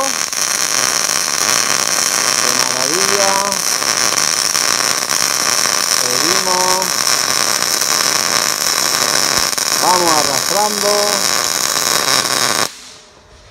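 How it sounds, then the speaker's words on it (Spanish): Flux-core wire welding as the bead is dragged along, a loud, steady broadband crackle and hiss held for about twelve seconds before cutting off abruptly, with brief harmonic tones rising faintly underneath. "lo dicho, le ponemos el filtro y vamos a soldar"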